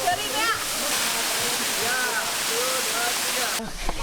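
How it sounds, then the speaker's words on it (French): A waterfall in Bali roars steadily and close, a dense continuous rush of falling water with faint voices mixed in near the end. "on est arrivé à la première cascade de la tournée"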